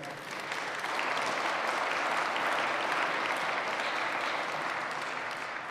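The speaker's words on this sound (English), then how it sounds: "Let's give him another round of applause." An audience at a university president's installation ceremony gives a steady round of applause, a dense wash of clapping that swells after the first second and holds evenly before easing slightly at the end.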